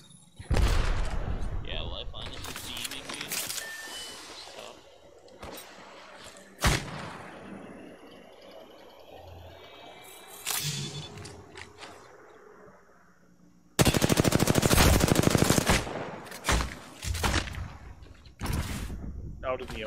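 Gunfire rings out during a squad match in the video game Apex Legends, with bursts of shots and heavy blasts mixed with game effects while a player talks excitedly over much of it.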